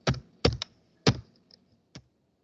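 Typing on a computer keyboard during a networking lesson on IP and MAC addresses: a few separate bursts of key clatter with short pauses and a couple of faint isolated taps, fairly close, with no talk.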